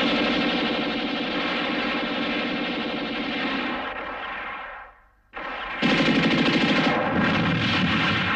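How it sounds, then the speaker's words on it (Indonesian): Gunfire in an Indonesian film about the G30S PKI events: a dense, continuous roar of rapid shots that dips briefly, then returns louder and sustained. "tembakan dimulai dari pihak sana"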